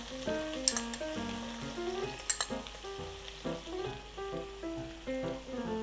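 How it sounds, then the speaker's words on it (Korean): Bracken sizzles and crackles in a hot pan while being stir-fried with kelp stock, with occasional scraping and clinks of a utensil against the pan. "고사리가 좀 이렇게 부들부들해질 때까지 좀 볶겠습니다."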